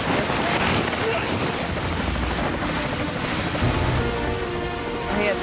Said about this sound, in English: The water's a little choppier now.